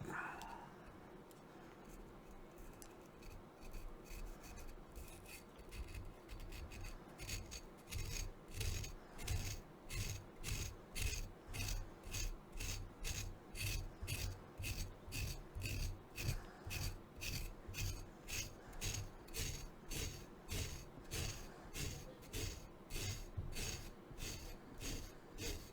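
Psoriasis flakes scraped off a scalp softened with coconut oil, a close, quiet rasping that repeats in an even, quick rhythm of short strokes.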